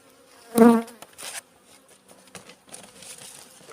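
A brief close buzz of a honeybee passes by at the hive in winter, followed by faint scattered clicks and rustles, quiet and without talking.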